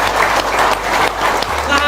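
Audience applause during a religious talk, a dense wash of clapping that fills the short stretch, with a voice speaking underneath.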